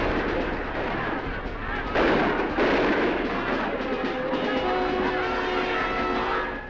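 Archival gunfire from Russian troops shooting in Czechoslovakia, a dense continuous roar of shots and blasts rising in loud bursts, with no speech.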